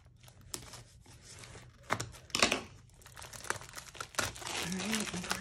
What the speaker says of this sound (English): All right, and break this plastic.